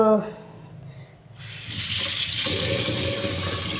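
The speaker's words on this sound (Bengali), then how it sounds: "তো চলো আমি চালটা ধুয়ে নিচ্ছি" Water runs steadily from a kitchen tap while rice is washed under it, starting as a faint trickle and then swelling into a continuous, fairly loud gush that holds to the end.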